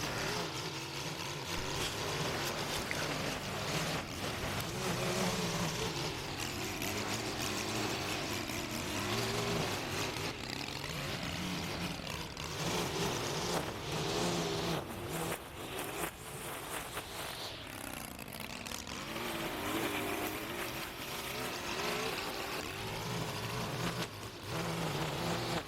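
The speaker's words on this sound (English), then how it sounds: "The whacker, you know, she's a pretty tough machine" A tough string trimmer spinning 2.7mm nylon line while tidying an overgrown sidewalk berm in Auckland, giving a loud, continuous engine whine with rough cutting noise that barely lets up for the whole stretch.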